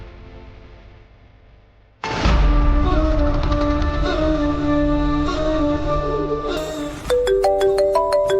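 A phone ringtone bursts in after about two seconds of near silence in a Kannada TV serial scene, then plays a loud, steady melodic tune with layered chiming tones for roughly six seconds, with no voices over it.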